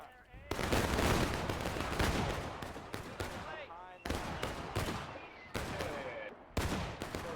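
Musket volleys crack and roll in a Civil War-era battle game, with several dense bursts of massed gunfire that echo and overlap, broken by brief pauses, while voices talk faintly underneath.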